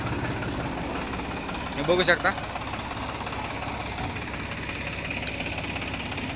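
A parked tractor idles in a village with a steady, rumbling engine drone throughout, and a voice briefly speaks over it near the two-second mark.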